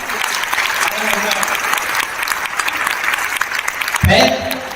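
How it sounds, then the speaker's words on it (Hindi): A full hall audience at a Hindi poetry recitation breaks into loud, sustained clapping, a thick steady patter of many hands, with a voice cutting in near the end. "एक बार पूरा सदन तालियां बजाए"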